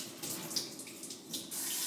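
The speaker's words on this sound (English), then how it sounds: "I'm going to rinse this off." A kitchen tap runs steadily as something is rinsed under it while hummus is being made, a soft constant stream of water with faint splashes, fairly quiet and with no talking.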